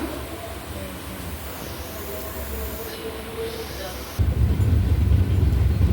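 Kanniyakumari Express leaving Kollam station: a hissing, noisy bed that suddenly swells into a louder, deep rumble as the train gets moving.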